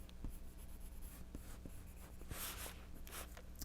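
Colored pencil scratching on paper while drawing lemons, soft close strokes in short repeated bursts, quiet and without talk.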